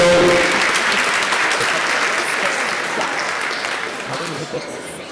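A room full of people at a college celebration and reunion gives loud, sustained applause that fills the whole clip and tapers slightly toward the end.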